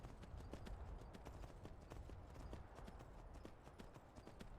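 Horse hooves clip-clopping at a steady rapid trot in the video game Skyrim, an even stream of close hoof beats over a low rumbling bed, faint and continuous throughout.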